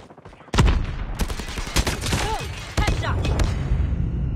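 Rapid bursts of gunfire from a Call of Duty Mobile 10v10 match, loud and close, with dense overlapping shots, thuds and a machine-gun-like rattle running continuously.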